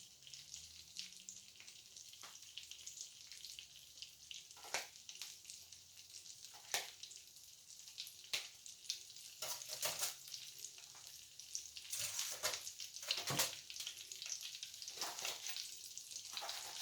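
Onion rings fry in hot oil, giving a steady, close sizzle and crackle with scattered sharper pops that grow slightly busier over time, with no voices.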